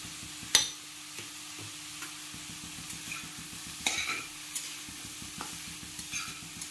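A spatula stirs garlic, ginger, turmeric, cumin and chili powder around a pan, giving repeated knocks and scrapes over a soft sizzle, with one sharper clack near the start.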